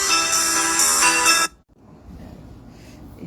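A phone ringtone from an incoming call sounds loud and steady for about a second and a half, then cuts off abruptly, leaving quiet room noise.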